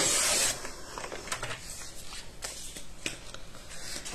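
Paper for a scrapbook mini-album being cut to size, a close dry rasping and scraping of blade through sheet, with a louder burst at the start and repeated short strokes after, no voices.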